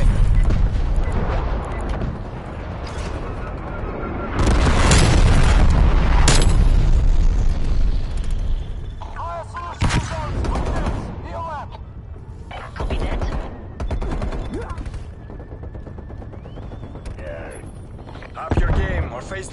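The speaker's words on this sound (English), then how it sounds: "Incoming artillery. Enemy strike incoming." Artillery strike explosions in Call of Duty on PS5 crash loudly and in dense succession, mixed with gunfire and mechanical clatter across a sustained, chaotic battle soundscape, with voice lines heard between blasts.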